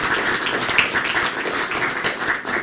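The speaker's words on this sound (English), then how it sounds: "let's give our speaker a round of applause" A small audience at a tech talk claps after the speaker finishes, a brief, steady patter of hands lasting under three seconds at moderate volume with no voices over it.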